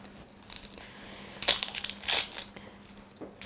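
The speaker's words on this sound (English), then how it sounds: "We're going to peel the onion." Dry papery onion skins being peeled and torn off by hand, with a couple of crisp crackling bursts standing out over quieter rustling, close and fairly soft.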